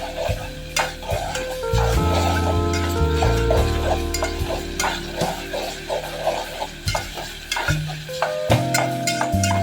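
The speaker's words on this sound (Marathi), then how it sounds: "हे बघा असं आपल्याला भाजून घ्यायचं आहे टमाटा आणि कांदा एक जीव होईपर्यंत" Tomato and onion roast in a pan, under steady sizzling and repeated scraping stirs of a spoon in a rhythmic series, with faint tones running beneath.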